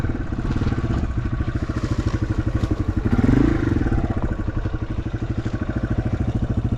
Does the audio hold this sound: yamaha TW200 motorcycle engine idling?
yes